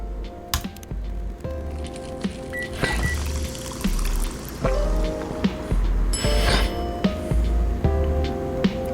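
Milk pours for a ginger latte over a steady bed of game background music, with a continuous liquid stream and small clinks of a cup or jug, fairly close and mid-level.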